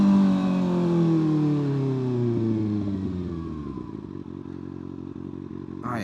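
A Kawasaki 636 sport bike on a ride to work, its engine note falling as it decelerates from a loud, high rev to a lower rumble, with wind and road noise and no talk.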